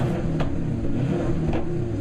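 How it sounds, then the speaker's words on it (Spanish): A German car engine roars on a country road at night, a loud, continuous low drone with slight swells in revving and no voices. "el rugido del motor alemán rompió el silencio de la noche en el campo"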